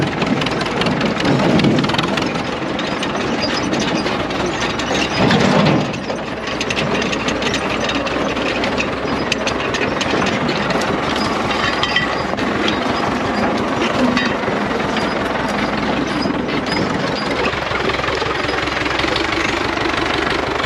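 A tractor engine runs steadily in Jamaica, giving a continuous loud mechanical clatter with a ratcheting, rhythmic chug. It holds close and constant for the whole stretch, with a couple of brief louder bumps near the start.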